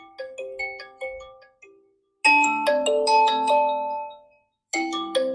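A Vivo V30e phone speaker plays a bright melodic ringtone, chiming notes in two bursts with a brief pause between, loud and clear, no talking.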